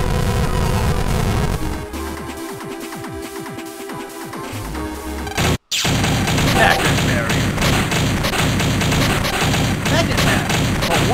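Security-system gunfire in the Megaman Battle Network 5 video game, a dense run of rapid shots and thuds over game music, broken by a brief silent cut and then a loud, noisy barrage that carries on to the end.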